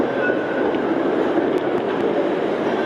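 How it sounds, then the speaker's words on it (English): A Toronto streetcar rumbles steadily on Queen Street West in the rain, a continuous loud rolling rail noise with faint squeals. "Oh good, there's a streetcar here."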